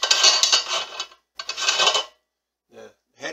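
Metal parts of a meat grinder head scrape and rattle as it is taken apart, with two longer grinding, rasping bursts followed by short clinks close by, no talking.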